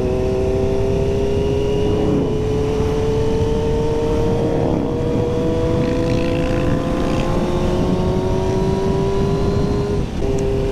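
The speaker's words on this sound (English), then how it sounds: "Look at this big group of bikes coming." A big group of motorcycles rides past on a busy Sunday coastal road, a loud continuous engine drone with overlapping rising and falling passes as the bikes go by.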